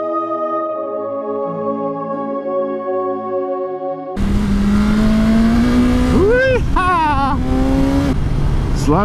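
A 2020 BMW S1000XR motorcycle engine holds a smooth, steady tone, then heavy wind rush takes over as the rider accelerates and a voice exclaims over the noise.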